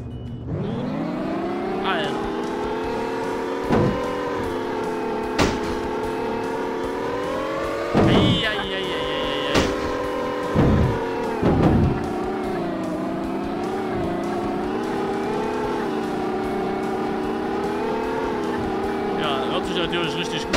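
Tractor engines race in a video game with a continuous loud motor drone whose pitch rises and falls, broken by several short sharp effects, while people talk over it.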